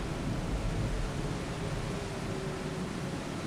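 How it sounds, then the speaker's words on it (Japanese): Thunder rumbles through a storm with strong wind and rain, a dense, steady roar heard from indoors that stays loud and unbroken throughout, with no voices. "雷が鳴り出したもんね。"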